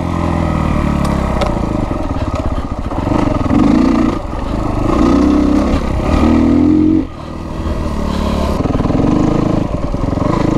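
A Kawasaki KX250F dirt bike engine revs hard on a mountain trail in Rampart Range, Colorado, loud and close with repeated throttle surges and brief drops, over rattling and clatter from the rough ground.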